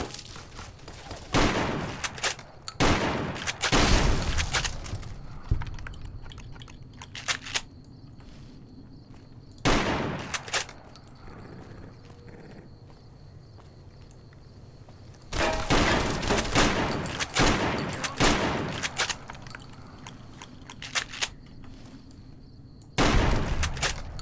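Gunfire from Fallout New Vegas with the Project Nevada mod, arriving as several bursts of rapid shots separated by quieter stretches with faint footsteps and ambient game noise.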